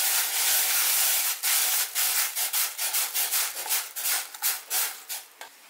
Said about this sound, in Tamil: சிம்ல வச்சுட்டு அப்படியே ஸ்டிர் பண்ண ஆரம்பிங்க.